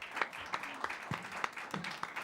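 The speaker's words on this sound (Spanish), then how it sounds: "Un aplauso a los dos." An audience applauds two debaters at the close of a televised debate, with brisk, fairly quiet rhythmic clapping running steadily under some faint voices.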